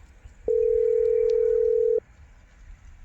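A telephone ringback tone sounds during a phone call as a single steady electronic beep held for about a second and a half, clear and close, followed by quiet.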